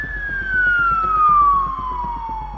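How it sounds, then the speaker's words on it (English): A police siren wails steadily with a slowly falling pitch, suggesting a passing emergency vehicle, over rumbling traffic. "They hear sirens coming around the corner."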